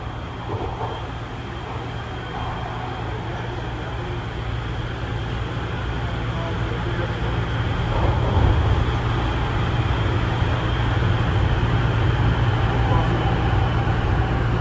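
A Toronto TTC open-gangway subway train rumbles steadily along, a constant loud roar and hiss that swells slightly midway, with no talking.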